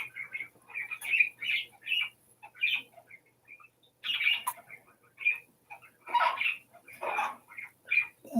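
A pet bird squawks and chirps in repeated short, sharp bursts close by in a quiet indoor room, the calls coming irregularly with brief gaps.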